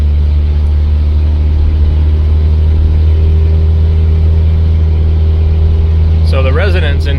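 A 1950s flathead classic car engine fed by an upgraded Carter BBS carburetor idles steadily and loud, a deep constant rumble throughout with a voice briefly speaking near the end.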